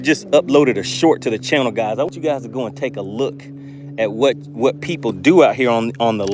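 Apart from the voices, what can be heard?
No everyday noises stand out.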